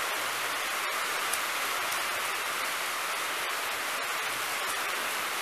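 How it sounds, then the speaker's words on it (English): Heavy rain pours down steadily during a storm in Hawaii, a dense, continuous, loud hiss of drops with no pauses and no voices. "Hey, here comes more rain!"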